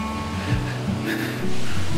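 Grisdale Beck, a stream in Waterfall Woods beside a walking path, rushes steadily and loud and close throughout, with a broad continuous wash of flowing water and a few faint low thumps.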